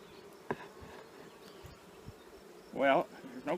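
Honeybees buzzing around an open Langstroth hive during an inspection, a low steady hum with a louder, closer buzz swelling near the end as a bee passes the microphone.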